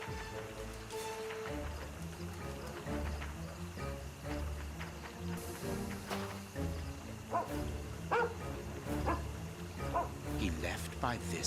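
Toby the dog in a Sherlock Holmes video game, several short barks and yips scattered over a steady backdrop of game music and ambience, with a voice speaking at times.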